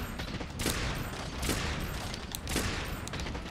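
Rapid heavy bowgun fire in Monster Hunter World, a dense burst of booming shots with sharp reports about every second over a continuous roar of gunfire.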